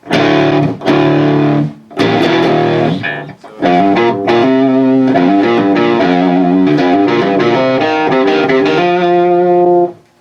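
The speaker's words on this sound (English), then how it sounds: "this one's just a really basic distortion pedal" Loud distorted electric guitar through a basic Z.Vex distortion pedal set to maximum, playing chords and short riffs, thick and saturated with sustained notes and brief pauses between phrases, no talking.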